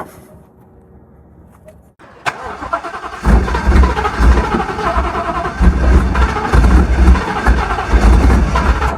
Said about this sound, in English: let's get a cold start so you can see how loud this thing is